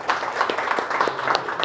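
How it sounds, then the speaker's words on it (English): Audience applause at a blood donation drive event for urban refugees in Uganda, a short burst of moderate clapping from a crowd. "We can give him a big round of applause."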